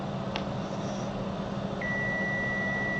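Multimeter continuity beep during a phone board repair, a single steady tone that starts partway through and holds to the end, faint over a humming room background.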